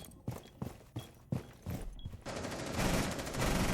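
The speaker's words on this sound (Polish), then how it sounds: "strzela do mnie." Gunfire in the video game Rainbow Six Siege starts as a few spaced single shots, then turns into a sustained dense burst of automatic fire, loud and close.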